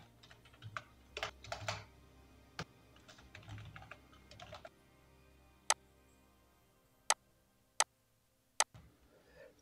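Someone types data into an Excel entry form on a computer keyboard, a quiet run of clustered keystrokes, then a pause and four separate, crisper key presses spaced apart.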